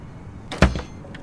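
A door opens in the video game Hello Neighbor Alpha 1, one short creak and thud near the middle over a faint background hum.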